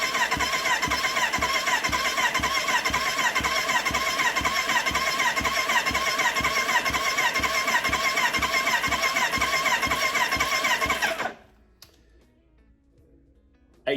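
A 1985 Kawasaki GPZ 750 R engine spins on the starter during a compression test, a steady rhythmic churning whir held for about eleven seconds before it cuts off abruptly into near silence.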